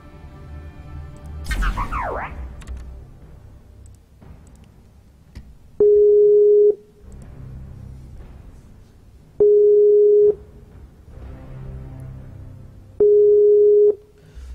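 A Skype outgoing-call ringing tone sounds during a Heroes of the Storm gaming session: three steady, even tone bursts about a second long, spaced a few seconds apart over a low background hum, following a brief swooshing game effect.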